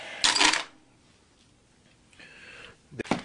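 Brass keys from an old storage auction hoard jingle and clink in two short bright bursts, with a quiet handling pause between them, close and fairly loud.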